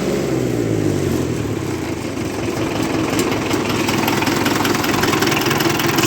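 A 1958 Oliver 550 diesel tractor engine runs steadily at about 2150 rpm, loud and close, a constant throbbing drone with no speech.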